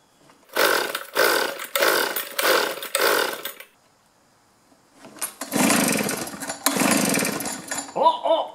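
A two-stroke trimmer, blower or chainsaw engine is pull-started with a series of loud, rhythmic ratcheting cord pulls, then after a pause it briefly sputters and kicks in a rough burst before dying away.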